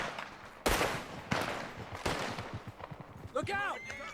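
Gunfire in Red Dead Redemption 2, several loud, close shots cracking out in quick succession, with a voice speaking at the end.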